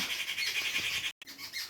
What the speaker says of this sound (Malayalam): കിളികൾ ഭയങ്കര ശബ്ദം